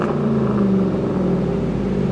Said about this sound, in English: With BBK headers, Roush side exhaust.